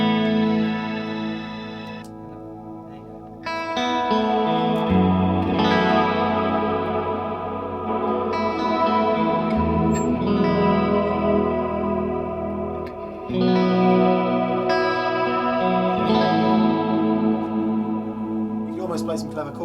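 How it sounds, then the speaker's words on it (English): Clean electric guitar chords played through a Strymon BigSky reverb pedal set for a huge wash, sustained notes blooming and trailing into long ambient tails, with a short pause before the strumming swells back in. "Can you get me one of those crazy reverbs that kind of goes, ah?"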